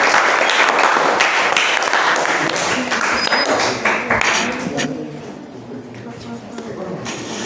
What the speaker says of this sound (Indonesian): Berikan aplaus dulu untuk kelompok 1.